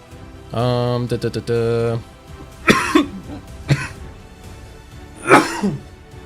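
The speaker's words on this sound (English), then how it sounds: "that coughing came out of nowhere" A harsh voiced sound followed by several abrupt, loud coughs spaced a second or two apart, close to the listener, with no other sound.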